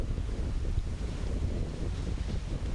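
Gusty wind at an outdoor archery range during a women's pro competition, a continuous low roaring rumble buffeting the microphone with no voices.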